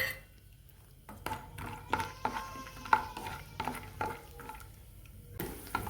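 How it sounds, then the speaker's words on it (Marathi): Peanuts frying in a pan of oil for kurdai bhaji, a soft sizzle broken by scraping stirs and light clinks of a spoon against metal, irregular and close by. "त्याच्यामध्ये आपण जे शेंगदाणे घेतले ते टाकून तळून घेणार आहोत"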